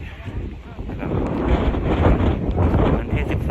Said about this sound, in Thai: ลมพัดค่อนข้างแรงครับ